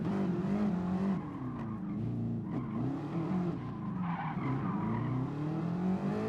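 A race car braking and skidding in Gran Turismo Sport, tires squealing with a wavering pitch over a steady engine drone for several seconds, fairly quiet in the mix.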